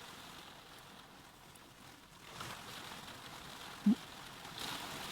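Heavy rain falling steadily, a soft, continuous hiss at low volume that thickens slightly partway through, with a single brief knock near the end and no voices.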